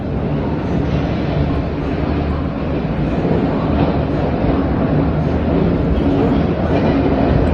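A train at Guntur railway station sends out a loud, continuous rumble and roar that fills the whole stretch without pause, heard up close.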